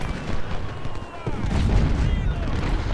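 Cannons and rifles boom and crackle in a Civil War battle at Crampton's Gap in Ultimate General: Civil War, with a steady rumble of distant blasts and gunfire beneath someone talking.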